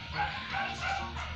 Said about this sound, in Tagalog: Dahil may ingay yung aso, guys.